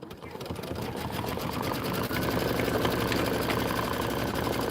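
Home sewing machine running a placement stitch on quilt border fabric, a rapid, even mechanical whir and clatter that builds slightly and then holds steady, close up, alone without speech.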